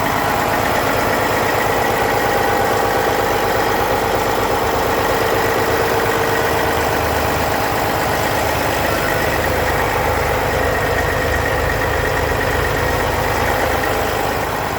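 A 2005 Western Star 4900SA tri-drive hydrovac truck engine idles steadily and loudly up close, a constant low diesel rumble with vibration that holds without a break for the full length.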